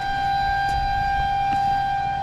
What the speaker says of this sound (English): That siren means that the water level is going to rise